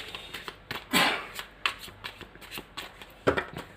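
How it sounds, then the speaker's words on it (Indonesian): Tarot cards are shuffled in quick, repeated riffles and flicks, a series of crisp papery bursts at an uneven rhythm, close and fairly quiet. "ayo kita lihat beberapa kartu dari tarot"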